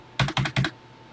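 Three quick bursts of key presses on a TI-99/4A home computer keyboard, close and distinct, each a short cluster of clicks with brief pauses between.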